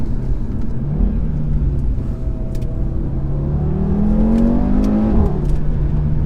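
An Audi RS3 with a stage 1 map accelerates hard toward a corner, its turbocharged engine droning loudly and rising steadily in pitch through the gears, with no talk.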